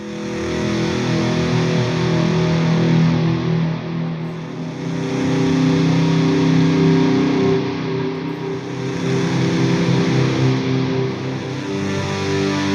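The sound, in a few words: guitar with heavy distortion, tone knob at middle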